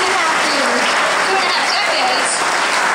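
Audience applause for Senator Chuck Schumer at an Armenian Genocide commemoration, a steady, dense clapping crowd filling the room at constant loudness throughout.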